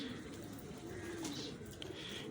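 A pigeon coos softly in a low, steady murmur against constant background noise, with faint chirps from other birds.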